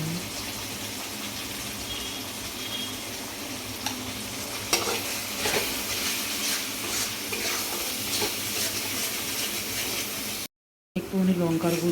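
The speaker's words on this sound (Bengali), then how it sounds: "এই মশলাটাকে ভালো করে কষবো" Ground ginger, garlic, onion and cumin paste with turmeric, coriander, chilli powder and sugar frying and being stirred in a pan, a steady sizzle with scraping strokes, cut off briefly near the end before a louder spatter.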